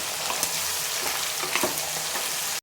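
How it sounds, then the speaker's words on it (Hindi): Beef liver frying in hot oil with tomatoes, a loud, dense, continuous sizzle close up with faint stirring scrapes, cut by a brief dropout near the end. "मुझे ऑयल में कलेजी को भूनते हुए 2 मिनट हो चुके हैं।"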